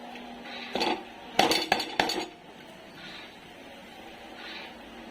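Mashed steamed eggplant scraped off a plate into a pan for bharit: a few sharp metallic scrapes and clinks of a utensil in a short cluster, then quiet kitchen background.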